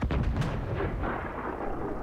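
A heavy tank gun booms once up close in the War Thunder video game, a loud blast that rolls into a long, low rumbling decay.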